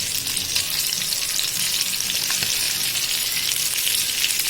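Sankara fish fillets frying in hot oil in a pan, a steady, dense sizzle with crackling pops that stays even and close throughout, no voices.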